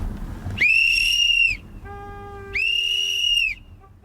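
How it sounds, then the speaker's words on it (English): A whistle blown twice near flats in Minneapolis, two loud sustained shrill blasts of about a second each separated by a short pause, sounding alone without speech. "You gonna blow your whistle?"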